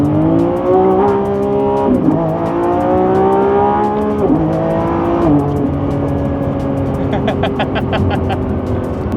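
Lamborghini Revuelto with its stock engine accelerating hard in sport mode through its 8-speed gearbox, loud and close, a rising engine whine broken by several quick upshifts, with voices talking over it.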